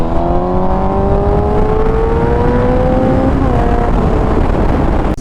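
A 2011 Honda CBR 1000 liter-class sport bike heard while riding: a loud, steady engine note climbing in pitch as it accelerates, with a brief dip around a gear change, mixed with heavy wind rush.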